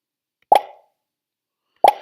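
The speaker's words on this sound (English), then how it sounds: "every time I hit the space bar, it makes that pop sound" Scratch's default pop sound, triggered twice by pressing the space bar: two short, crisp plops about 1.3 seconds apart, each with a quick decay into silence.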